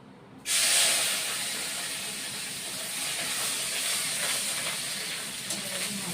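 Onions hit hot oil for tempering in a jackfruit and prawn curry, bursting into a sudden loud hiss that settles into a strong, steady sizzle close by.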